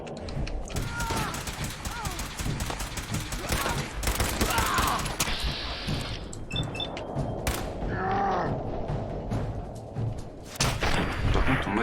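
Gunfire from a Fallout 4 game session: rapid bursts of shots and mechanical weapon clatter over several seconds, mixed with game sounds while people talk.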